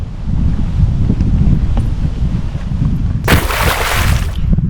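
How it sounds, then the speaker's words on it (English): Strong wind buffets the microphone in a steady low roar on a lake, with a sudden hissing gust surging near the end. "Really windy out today"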